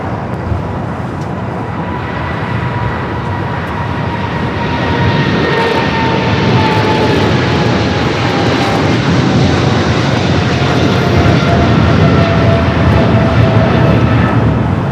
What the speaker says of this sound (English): China Southern Cargo 777 freighter rolling down the 25 left.